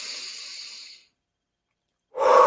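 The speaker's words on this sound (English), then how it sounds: "And I'm going to take a few breaths." A person takes a few slow, calming breaths alone and close by, a soft breathy exhale fading out, then a pause before a fresh inhale begins.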